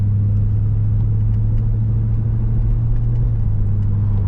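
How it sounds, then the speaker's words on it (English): Steady low idle rumble of a 1995 Chevrolet Corvette C4's small block V8 through an aftermarket exhaust, crawling in traffic, heard from inside the cabin as a constant deep drone with no speech. "That is a small block Chevrolet engine right there"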